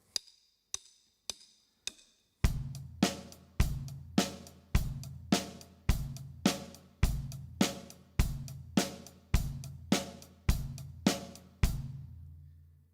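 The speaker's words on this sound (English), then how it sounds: "But if I play rock beat A, if you like, the standard rock beat, sounds something like this, in 4/4." A drum kit plays a standard rock beat in 4/4, opening with a few light clicks before kick, snare and cymbal hits land in an even, steady pulse, close and alone, with the final crash ringing out.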